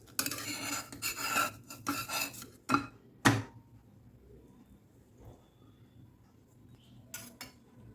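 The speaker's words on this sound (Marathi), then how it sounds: "आता हलक्या हाताने आपण पराठा पलटून घ्यायचा आहे" Maize paratha on a pan over low heat, flipped by hand, with a run of close clattering and scraping of utensil against pan followed by a few sharp knocks and a quieter stretch.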